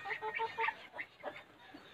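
Domestic ducks in a pen, with a wild black duck among them, give a short series of faint nasal quacks, several quick calls close together, then a few more spaced out.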